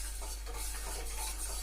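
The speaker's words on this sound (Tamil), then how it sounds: "இப்போ சர்க்கரையை நல்லா கரைச்சி விட்டுக்கலாம்." Sugar and water, one cup to half a cup, are stirred in a pan to dissolve for badusha syrup, with a soft continuous scraping swirl at low volume and no talking.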